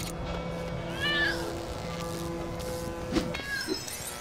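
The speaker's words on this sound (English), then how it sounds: "I hear a kitty!" A cat meows inside the LEGO City Undercover video game, a couple of short, rising calls over steady game music and ambience, moderately loud and without talk.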